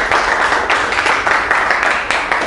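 An audience claps together at an indoor travel quiz event, a dense, fairly close burst of applause that holds at a steady level for the whole stretch, with no voices over it.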